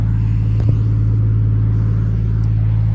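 Nissan Cefiro with an RB20DET engine idling steadily while warming up, a deep, even low rumble close by with no revving and no voices.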